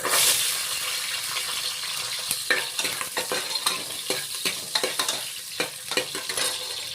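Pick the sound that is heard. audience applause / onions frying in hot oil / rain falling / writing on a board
onions frying in hot oil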